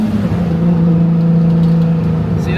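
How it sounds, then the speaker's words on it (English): A car accelerates with a steady, loud engine drone and a sustained low-mid tone throughout, heard close from inside or near the vehicle, with a faint rising whistle near the end; no talking. "that turbo sound is just chef's kiss"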